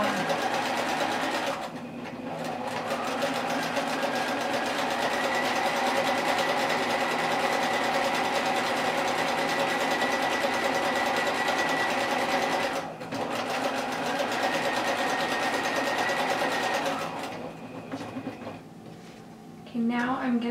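Sewing machine stitching coiled rope for a rope bowl, a fast continuous whirring chatter close up that runs almost throughout, with brief stops near two and thirteen seconds and a slowdown at the end.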